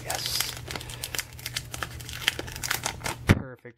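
A foil Pokémon Team Rocket booster pack being peeled open by hand, with close, continuous crinkling and sharp tearing rustles that end in a louder rip before sudden quiet.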